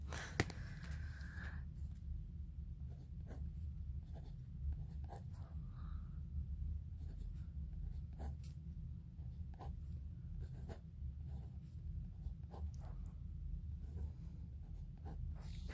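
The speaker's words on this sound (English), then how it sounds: "notice how I was writing these numbers in from right to left" Pen or pencil scratching steadily on paper while numbers are written into a place value chart, a close, quiet run of short strokes and taps that continues throughout.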